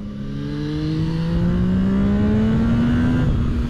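A Zontes 703 RR sport motorcycle engine revs steadily upward in pitch, a continuous loud whine building over a few seconds, close by.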